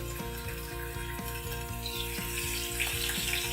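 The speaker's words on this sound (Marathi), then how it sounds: "तेल गरम झालं आहे अर्धा चमचा मोहरी अर्धा चमचा जिरे चार पाच लसूण पकाया" Mustard seeds, cumin and four or five garlic cloves sizzle in hot oil in a kadhai, a loud continuous frying hiss close by with no talking.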